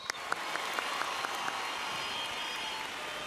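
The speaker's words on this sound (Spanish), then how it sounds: "Aplauso para Argimiro." A television morning show studio audience in Panama applauds for Argimiro, a cook, with a few distinct claps at the start settling into soft, fairly faint continuous clapping.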